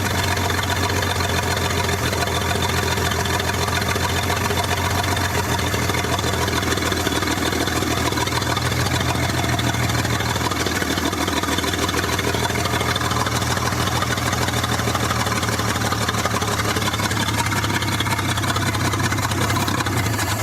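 A 1947 International KB3 truck engine, rebuilt after sitting locked up for decades, idles steadily and loudly for about twenty seconds with a continuous low rumble and no talking.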